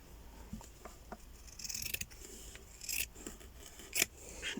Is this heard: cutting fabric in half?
yes